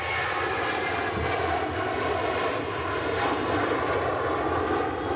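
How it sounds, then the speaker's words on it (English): Jet2 Boeing 737 airliner without winglets, a loud, steady engine roar that stays strong and near throughout with no talk over it. "Jet 2 737 with no winglets."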